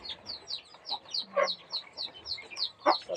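Chickens cluck faintly in a steady rhythm of short repeated calls, with a few louder notes in between.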